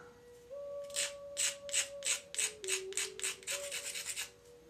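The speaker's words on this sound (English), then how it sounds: "we'll just take a little edge grind" Stone tool edge being ground by hand, about a dozen rhythmic abrasive rasping strokes, close and fairly quiet, with a faint steady tone underneath.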